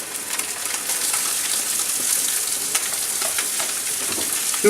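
Beef brains and onion frying together in a pan, a dense, steady hiss of hot oil heard up close with small crackles and faint stirring scrapes throughout.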